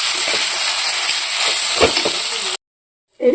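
Potato filling for masala dosa is stirred in a hot pan, giving a loud, steady sizzle and hiss with occasional scraping stirs, then cutting off abruptly into silence before the sizzle briefly returns.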